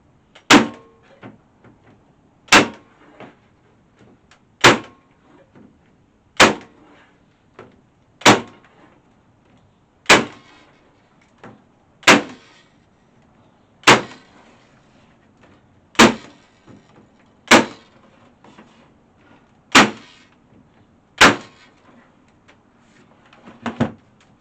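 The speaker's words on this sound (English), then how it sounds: "just fire some brad nails in" A nail gun drives brad nails into wood in about a dozen sharp, evenly spaced pneumatic snaps roughly every two seconds, each followed by a faint knock, close and clear with no talking.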